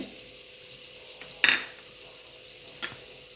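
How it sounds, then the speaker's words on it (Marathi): Ground spices being stirred together in a pan for kachori filling, a faint soft sizzle with two sharp spoon-on-pan knocks, close and otherwise quiet. "हे टाकून सर्व मसाले असे मिक्स करायचे"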